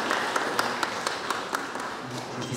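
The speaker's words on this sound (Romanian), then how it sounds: "Ne aplaudăm!" Sparse, fairly steady claps ring out over a room's background murmur, a small group applauding at a moderate level at a celebration of couples married 50 years in Târgu Ocna, Romania.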